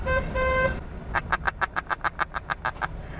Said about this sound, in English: I do also have a horn on the end of my turn signal stalk